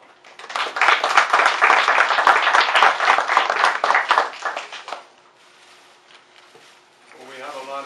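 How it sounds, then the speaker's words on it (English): A council meeting crowd gives Wanda a dense, steady round of hand clapping for about four and a half seconds before it fades out and a voice starts speaking. "I think she needs a round of applause."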